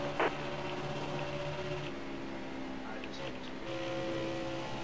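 A race car engine revs hard in a Busch Series sim race at Atlanta, a steady droning whine that holds and shifts pitch, mid-level and continuous.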